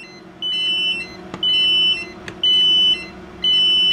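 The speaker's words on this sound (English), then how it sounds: "Both the 121GWs are now beeping. That's because we've exceeded 600 volts." Two UEI 121GW multimeters sound an over-voltage warning after exceeding 600 volts, a Gossen Metrowatt meter beeping as well: four steady, near, loud half-second beeps at a regular one-second rhythm over a low electrical hum.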